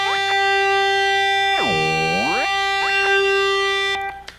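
A Moogerfooger effect pedal bends a steady, loud electronic tone: its pitch sweeps down and glides back up to the note, then briefly dips again, with a sustained droning harmonic layer throughout.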